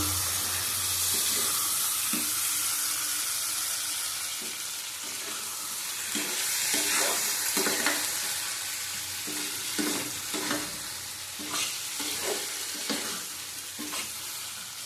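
Taro, potato and spices stir-fry in a pan with a steady close sizzle, broken by repeated scraping strokes of a spoon stirring through the pieces; no talk.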